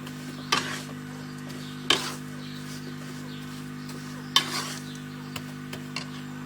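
Salt is stirred in a pan heated on a high flame: a few sharp scraping strokes and light gritty rattles over a steady low stove hum, close by and without talk.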